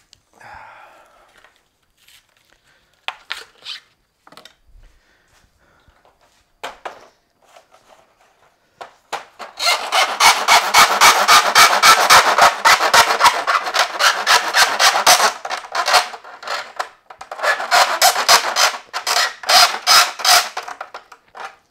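A metal file rasps back and forth on a PC case in rapid, harsh strokes, a long steady burst then a shorter one after a pause, preceded by a few scattered taps.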